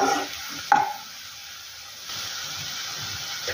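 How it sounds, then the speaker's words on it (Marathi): Chopped onion sautéing in a pan for a Maharashtrian tomato chutney, a steady soft sizzle and hiss with a brief scrape of stirring near the start and another stir toward the end, no talk. "कांदा आता इथे आपला छानपैकी परतला गेलेला आहे"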